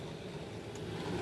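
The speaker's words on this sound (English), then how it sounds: "I don't know if you can hear the vehicle is running right now because I'm charging the batteries back up." A vehicle engine idles steadily to recharge an RV's batteries, a low, even rumble with a soft hiss above it, close and unbroken for the whole moment, with no voices.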